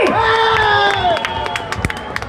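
A studio audience at a Star Jalsha television show claps and cheers, a crowd roar with sustained voices and tones at first, thinning into scattered loud claps toward the end.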